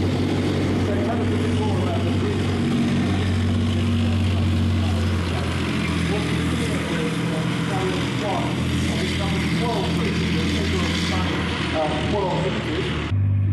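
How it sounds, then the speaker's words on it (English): A large Titan armoured bridge-laying vehicle approaches at speed in an arena display, its loud engine roar and rumbling track noise rolling continuously and close, with a voice talking over it throughout. "we see Titan now coming in at considerable speed for such a large vehicle"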